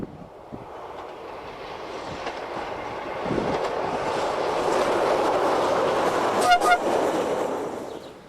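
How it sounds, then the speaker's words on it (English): Portuguese diesel locomotive 1217 hauling an international passenger service from Abrantes to Badajoz at Caia, with a steady rumbling roar that swells as it nears and a brief two-note horn blast near the end. "this is Caia, as 1217 powers the international train, a service from Abrantes to Badajoz"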